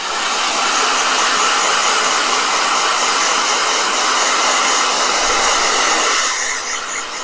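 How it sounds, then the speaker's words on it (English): A hair dryer blows continuously with a loud, steady airy roar and hiss, easing slightly near the end. "It is blow dryer."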